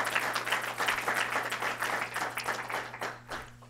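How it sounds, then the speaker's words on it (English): Audience applause after a state budget presentation, a steady dense wash of clapping lasting several seconds before tapering off near the end. "Let's give Lee Roberts a round of applause."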